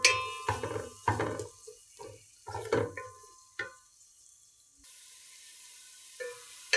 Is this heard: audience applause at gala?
no